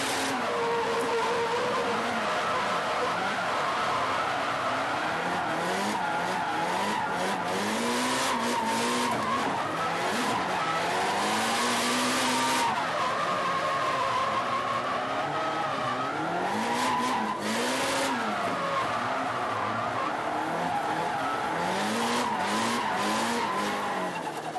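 A yellow 180 drift car with turbo power and an HKS cross transmission races at a 2003 D1 drift event, its engine revving up and down hard over long, continuous tire squeal.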